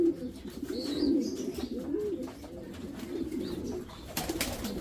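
A racing pigeon coos in repeated soft throaty rolls, close and clear, over a faint background murmur from the loft.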